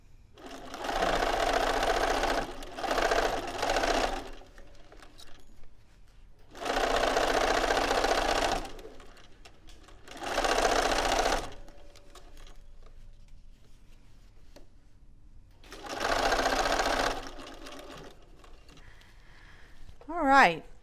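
Sewing machine stitching quilt pieces, several loud whirring runs of a few seconds each separated by pauses, close by, with speech between the runs.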